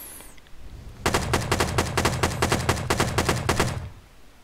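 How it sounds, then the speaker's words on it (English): A full-auto rifle in the video game Rust fires a rapid burst of about fifteen evenly spaced shots, loud and close, after a brief quiet lead-in. "let's see if we can get some full auto shots in there"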